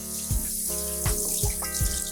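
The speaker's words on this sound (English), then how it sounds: "Very hot water." Very hot water gushing steadily from a tap into a sink in a cafe, with occasional splashes and clunks as something moves through the stream.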